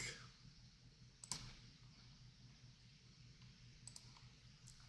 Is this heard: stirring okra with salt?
no